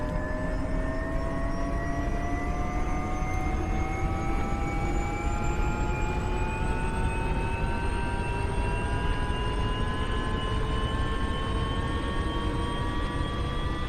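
An MD500 helicopter's turbine engine spools up during startup in a flight simulator game, a steady loud whine with tones rising gradually over a continuous broadband roar, with no talking.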